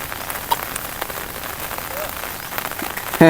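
Steady rain patters on a surface, a dense hiss of drops with scattered louder taps, fairly close and continuous, with faint voices in the background.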